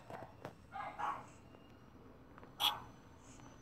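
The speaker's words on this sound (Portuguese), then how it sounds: "O cachorro fica latindo." A dog barks in the Minecraft video game, with a few short, sharp yaps at moderate distance. A brief pair comes first, then one louder single bark, over quiet game ambience.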